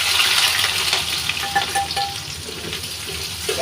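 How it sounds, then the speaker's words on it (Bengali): Onions, sliced green chilies and a bay leaf fry in hot oil with a steady, busy sizzle and crackle, some stirring scrapes and soft clatters throughout, close and moderately loud, no speech. "এটা আমি লাল লাল করে কিছুক্ষণ ভেজে নেব"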